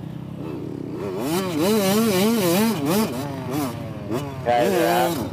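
Dirt bikes ride on a track, their engines revving up and down in a rhythmic, wavering whine. The sound is fairly close and continuous, rising and falling repeatedly, with a brief lull before another surge.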